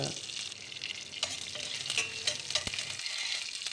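Chana dal, urad dal, mustard seeds, cumin and curry leaves tempering in hot oil for a potato buttermilk curry, a close, continuous crackling sizzle with a few sharp pops and light stirring scrapes.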